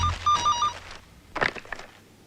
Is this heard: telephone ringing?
yes